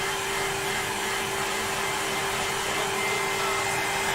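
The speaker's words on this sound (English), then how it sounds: "she's now lost her hairdryer" A hair dryer blows steadily to dry paint, a loud, even whooshing roar with a faint high whine, running unbroken throughout with no talking.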